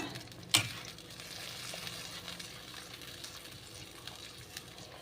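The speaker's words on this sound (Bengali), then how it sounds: "মশলাটা একটু ভাজা ভাজা হবে।" Spice paste of ground cumin, coriander, green chili, tomato and turmeric fries in a pan for a thin fish curry, a steady soft sizzle with one sharp clink near the start.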